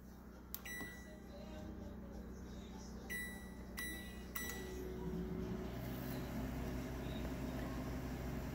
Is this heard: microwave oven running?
yes